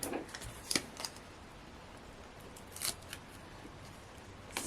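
Scissors snip through card during paper crafting, a few quiet, separate cuts spaced apart against a soft room background.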